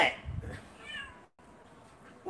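A cat meows a few times at close range in a café setting, short plaintive cries that break off into a brief silence, with a person speaking softly nearby.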